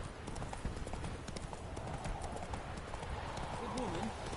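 Horse hooves clip-clop at a steady trot for Roach in The Witcher 3, with a brief whinny near the end, all under continuous voices and game ambience.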